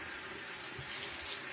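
A bathroom tap runs in a steady, even stream of water while someone rinses a face mask off, the wash continuous and close with no talking.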